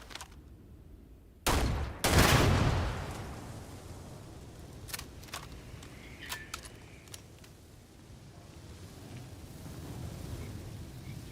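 Gunfire in the video game Starfield: two loud, close shots in quick succession, then a scattering of sharper, fainter pops and clicks over a low rumbling background.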